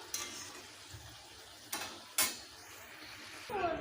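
A paratha cooks on a hot tawa over a gas flame, with a faint, quiet sizzle, a few soft bumps, and two sharp clinks and scrapes from a spatula or utensil.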